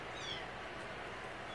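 A cat meowing, a faint, drawn-out mew heard briefly over a steady background hiss.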